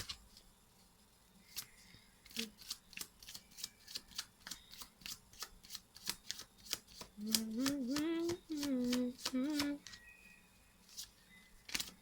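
Tarot cards are shuffled by hand in rapid, crisp riffling bursts, close and fairly quiet, with a few short tonal voice-like sounds partway through.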